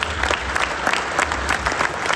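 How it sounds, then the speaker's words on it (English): Soldiers at a fishing event give a round of applause, steady crowd clapping of even density throughout, filling the room. "So give yourself a round of applause."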